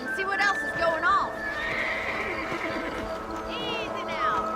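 Horses in Red Dead Redemption on Xbox One whinny loudly over steady hoofbeats and ambient outdoor sound, with a second neigh near the end.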